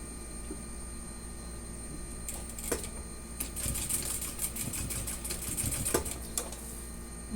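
A sewing machine backstitching fabric for a gas cylinder cover sewn with French seams: short bursts of quick mechanical stitching rattle start and stop, fairly close, over a steady hum with no talk.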